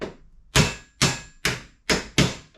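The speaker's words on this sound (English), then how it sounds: "We're going to knock those out using this tool." Five sharp metallic blows from a ball peen hammer knocking out a bearing ring out at a steady pace, each strike loud and close with a short ringing decay.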